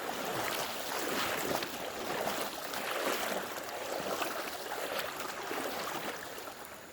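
Fast river water rushing and swirling around a person's feet as they stand in the current, a steady broadband wash close to the microphone with no talking, in a river area reshaped by a flash flood.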